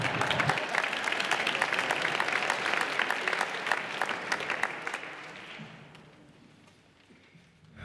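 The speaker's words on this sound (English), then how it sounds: "You can clap for her again while we get this ready." Audience at a celebration-of-life gathering breaks into sustained applause, dense clapping that holds strong for several seconds before tapering off near the end.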